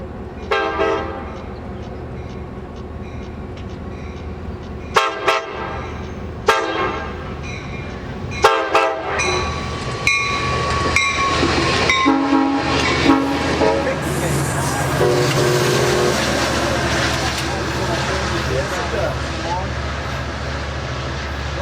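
An Amtrak California passenger train rumbles past close by in Niles Canyon with repeated loud horn blasts, then the steady roar of rail cars rolling on.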